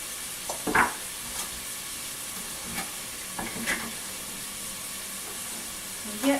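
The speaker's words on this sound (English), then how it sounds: "our onions are looking good. They're starting to get a little bit of char on them." Onions frying and starting to char in a pan for a Cuban-style oxtail dish: a constant close sizzle with occasional louder scrapes and clanks of stirring.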